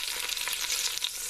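Oxtail pieces frying in a pan, a close, continuous sizzle with crackles and spits, fairly quiet overall, with no speech.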